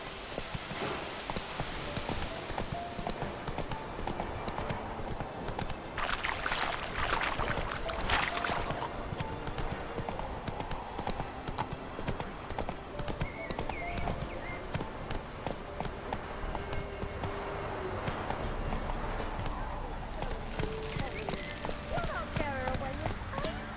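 Roach, a horse in The Witcher 3, gallops in a quick steady clip-clop of hooves throughout, with a brief whinny-like burst and a voice speaking over the hoofbeats.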